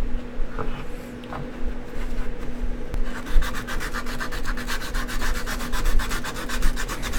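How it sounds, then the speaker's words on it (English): Sandpaper rubbing steadily on a workpiece during a glass construct build, a continuous close scraping that turns into fast, regular back-and-forth strokes partway through, with no voices. "So far I'm liking the sandpaper."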